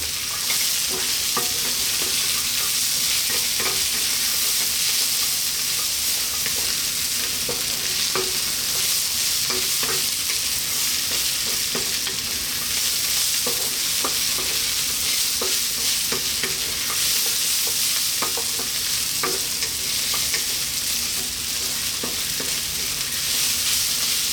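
Cashews fry in a pan with a steady, loud sizzle that never lets up, and a utensil scrapes and stirs in irregular taps throughout.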